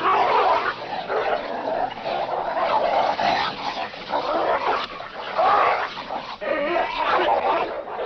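A dog barks and snarls through a brawl in a 1955 frontier film, its sharp, agitated barks coming continuously over a busy, noisy scene without pause.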